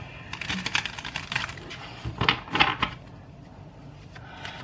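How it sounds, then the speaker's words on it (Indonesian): Tarot cards are shuffled by hand in quick, crisp bursts of papery flicking and light tapping, close and fairly quiet, with short pauses between bursts. "Aku shuffle kartunya"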